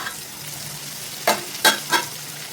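Capsicum and potato curry being stirred in a pan, three quick scraping strokes over a faint low sizzle, close and otherwise quiet.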